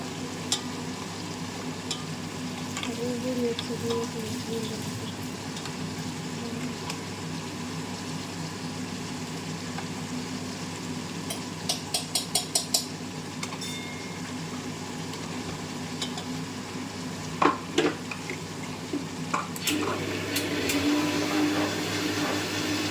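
Spice paste for mutton biryani sizzles steadily in a hot pan while being stirred, a continuous frying hiss with occasional scraping and clinks of the spoon against the pan.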